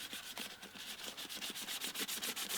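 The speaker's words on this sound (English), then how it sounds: "it's sanding down all the imperfections, starting with a 120, going to a 220, then a 320" Steady back-and-forth rubbing of sandpaper on a metal wheel rim, 120 to 320 grit, a quick regular scratching rhythm, close and fairly quiet.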